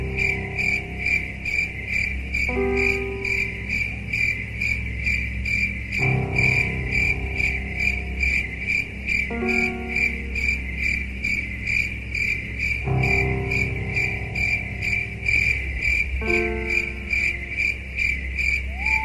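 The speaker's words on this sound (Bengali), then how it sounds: "ঝিঝি পোকার অবিরাম ডাক শোনা যাচ্ছে।" Crickets chirp continuously at dusk in a garden beside a house, a steady high-pitched pulsing drone running unbroken throughout, with soft low tonal music swelling and shifting underneath.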